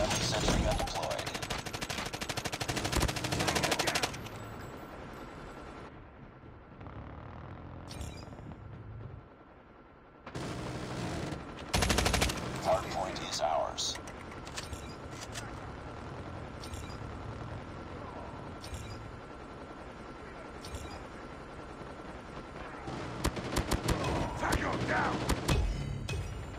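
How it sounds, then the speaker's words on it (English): A sentry gun firing in a Call of Duty Mobile hardpoint match: loud, clattering bursts of automatic fire break off and resume amid other battle noise, with game voice lines. "Friendly sentry gun deployed."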